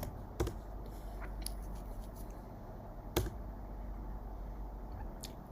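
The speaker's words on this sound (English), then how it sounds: "So let's type in kilometers here." Typing on a computer keyboard, with a few sharp, close key clicks scattered over a steady background hum.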